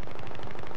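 Rapid automatic gunfire in Battlefield 3 during a team deathmatch, a dense, steady burst of close, loud shots filling the whole moment with no pause.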